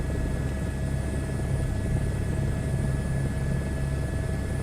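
A helicopter in a VR flight simulator game moves between forward flight and a hover, giving a steady whirring engine drone with a faint rhythmic rotor pulse and thin high whine, no voices.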